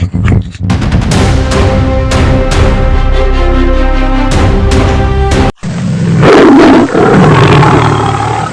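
A leopard roars in a Malayalam film scene, heavy growling roars repeating loudly over dramatic bursts and booming impacts, with no talk.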